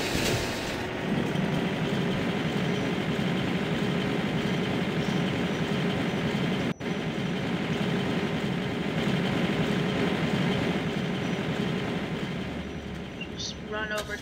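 Harvester engine in Farming Simulator 2013 runs as a steady, continuous drone throughout, with one brief dropout midway and a slight fade near the end.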